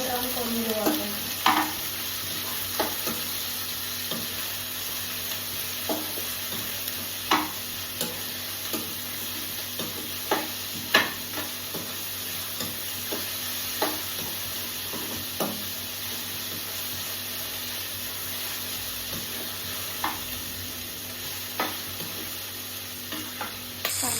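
Onions, roughly two, frying in oil until golden brown, with a steady close sizzle broken by frequent sharp scrapes and clinks of a spoon stirring the pan, no voices.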